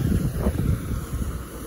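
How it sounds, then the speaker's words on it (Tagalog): Strong typhoon wind gusting on the coast of Taiwan, buffeting the microphone in a loud, continuous roar that swells and eases slightly over a short stretch. "Ay bagyo dito sa Taiwan. Lakas ng hangin."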